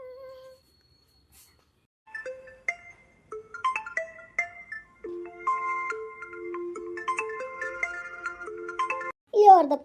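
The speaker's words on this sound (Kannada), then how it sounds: "ಯಾರ್ದಪ್ಪ ಈಗ ಫೋನು?" A mobile phone ringtone plays a bright electronic melody of rising and falling tones that grows in layers over several seconds, fairly clear, ending as a voice briefly cuts in.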